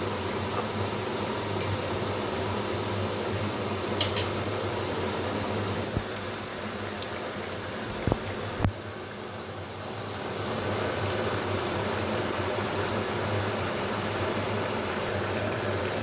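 Water boils hard in a pot for Bengali prawn malai curry, a steady bubbling hiss throughout with a few faint clinks of utensils and no voices.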